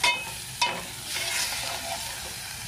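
Finely minced keema fries in a pan, giving a steady close sizzle, while a spoon stirs it through and scrapes now and then. A louder scrape comes early on, and no one speaks.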